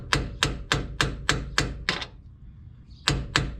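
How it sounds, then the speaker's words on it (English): A hammer taps a bearing into place on a 2002 GMC Sierra 1500 truck, a series of sharp metallic knocks in a steady rhythm, a short pause, then a few more blows, close and clear. "I kind of like to maybe just start it a little bit like that with the hammer"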